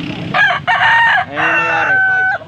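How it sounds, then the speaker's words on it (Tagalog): A rooster crows loudly and close by at an open-air animal market in Angeles, Pampanga, giving a couple of drawn-out calls over faint background noise. "Baka laki ng manok oh."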